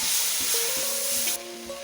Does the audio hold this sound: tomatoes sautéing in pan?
yes